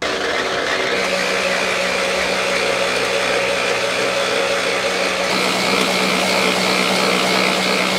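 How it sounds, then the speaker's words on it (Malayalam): A machine grinding clay into a smooth paste for making well rings, a steady loud mechanical drone with a constant hum and no pauses, heard alone. "ഈ കാണുന്ന മെഷീനിലാണ് നമ്മൾ പുറത്തുനിന്ന് കൊണ്ടുവരുന്ന കളിമണ്ണിനെ ഫുള്ളായിട്ട് പേസ്റ്റ് പോലെ അരച്ചെടുക്കുന്ന മെഷീനാണിത്"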